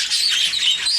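Several caged birds call at once in a dense, continuous chorus of high chirps and squawks, close by and steady throughout, with no talking.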